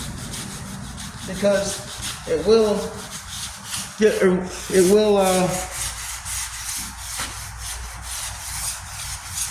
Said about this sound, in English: Sometimes sanding in between coats is not a bad idea itself,